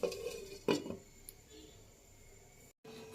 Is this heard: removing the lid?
yes